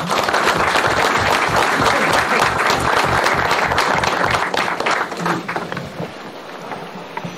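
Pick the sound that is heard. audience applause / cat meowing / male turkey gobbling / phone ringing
audience applause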